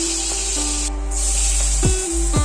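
Cauliflower florets fry in hot oil for a Bengali prawn and cauliflower curry, giving a loud, steady sizzling hiss with occasional scraping and clinks from a utensil in the pan.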